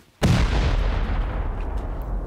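C4 explosives detonating against a bunker wall in a raiding video game, with a sudden loud blast that rolls into a long, rumbling decay lasting about two seconds, with no voices over it.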